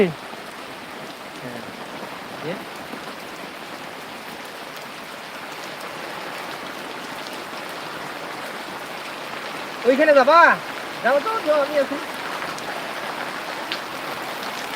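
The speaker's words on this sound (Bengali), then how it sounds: "অনেক বৃষ্টি হচ্ছে প্রচুর বৃষ্টি হচ্ছে আজকে" Steady heavy rain pours throughout, a dense even hiss, with a few people talking briefly near the end.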